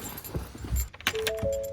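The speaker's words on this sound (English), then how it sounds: "So now what you want to do is you want to turn the car to on." Car keys jangle briefly in a quiet car as the key is turned to the on position, a few soft metallic clinks up close, followed by short electronic beeps.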